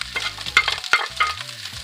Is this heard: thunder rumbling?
no